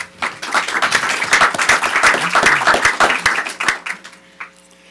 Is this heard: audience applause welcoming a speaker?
yes